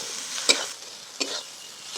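Ground spices including Kashmiri chilli powder fry and get stirred in a pan for a village-style chicken and potato curry: a soft steady sizzle broken by two sharp scraping stirs.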